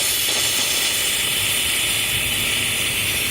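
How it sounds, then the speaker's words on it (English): Continuous loud hiss of steam bleeding from a stainless boiler wrapped in nomex and kevlar and fired with charcoal, a steady close rush with no pauses and no talking. "I can have a bleed of steam and still have pressure at maintaining a certain level above 25."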